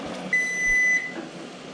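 A single electronic timer beep rings out, a steady high tone lasting over half a second, with faint background noise before and after.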